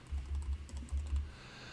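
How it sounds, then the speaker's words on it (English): Quick keystrokes on a computer keyboard, about six close taps in an uneven burst, typed into steel-design software settings with no talk over them. "and I'll type in column,"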